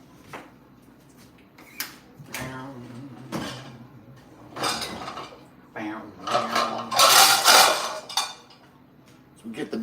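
A big pan clanks and scrapes among pots and dishes, with sharp metallic knocks and clatters building to a loud rattling burst, while people talk nearby.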